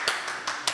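A few people clap hands in a tense indoor confrontation, four sparse, separate claps at uneven intervals against a quiet room.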